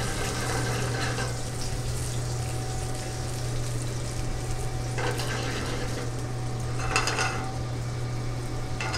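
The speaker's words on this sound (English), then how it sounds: "Just hit those with just a splash of white wine." White wine is splashed into a very hot pan of mushrooms, giving a continuous hiss and sizzle under a steady hum, with scattered clinks of utensils and a couple of louder flurries, and no talking.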